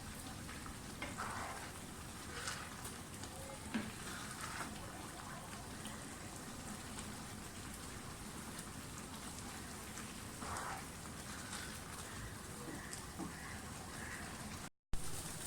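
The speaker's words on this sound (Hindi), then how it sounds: "थोड़ा सा मैं इसको और चलाऊंगी चम्मच को, ताकि अच्छी तरह से दूध जो है वो ड्राई हो जाए" Milk vermicelli (seviyan) cooking down in a pan as the milk dries, giving a steady, dense rain-like bubbling hiss throughout, with faint scattered clicks suggesting a spoon stirring; a brief dropout comes near the end.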